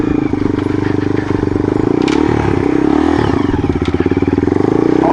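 A Yamaha XT225 dirt bike idles and pulls away on a short backyard ride, its single-cylinder engine thumping loud and close, with clatter and scraping underneath.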